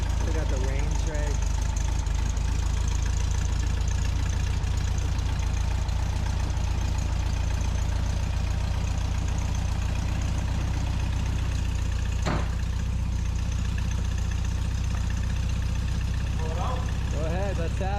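A restored 1965 VW Beetle convertible, with its original matching-numbers engine, runs at a steady idle for the whole stretch, a low continuous drone with people talking over it now and then.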